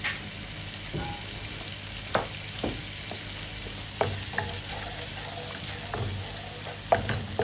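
Fresh garlic fries in a pan with a constant hiss of oil, broken by several sharp clinks and scrapes of a spatula stirring it, no voices over it.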